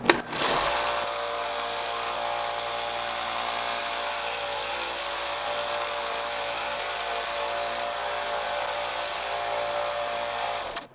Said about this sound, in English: We got to put that taper right there into the Lexan polycarbonate lip. So we're going to sand one side of it